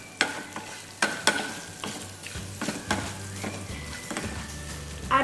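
A spoon stirs a tempering mixture with asafoetida in a pan just off the heat. Repeated sharp scrapes and taps come over a soft, continuous sizzle, close up with no talking.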